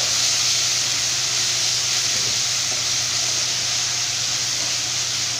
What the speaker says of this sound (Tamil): இப்போ இது எல்லாமே சேர்த்துட்டு நல்லா வந்து நம்ம வதக்கி விட்டுக்கலாம்.